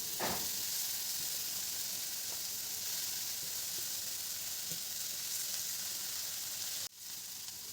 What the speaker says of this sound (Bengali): এবার এর মধ্যে আমি কেটে রাখা কলমির শাকগুলো দিয়ে দেব।